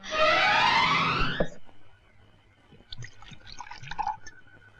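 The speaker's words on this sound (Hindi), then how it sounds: "अबे आधा गिलास दे रहा है, भर के दे।" Drink poured into a glass, a loud rising liquid gurgle that fills for over a second and stops abruptly, followed by faint clinks and small sounds.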